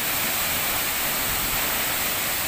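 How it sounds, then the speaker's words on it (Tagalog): Water pours down a mountain waterfall in Mindoro, making a dense, steady broadband roar that fills the whole moment without a break. "kitang-kita mo talaga na bumabagsak ang tubig"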